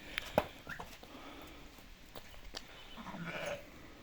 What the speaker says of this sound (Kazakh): айтылу Ваваныштың прямой қозысы сатылады туғандар